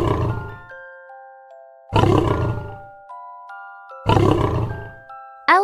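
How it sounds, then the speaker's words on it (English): A lion roars three times at steady intervals, each a loud, deep, rumbling burst that fades away, separated by gentle chiming bell tones and silence. "Lion, roar."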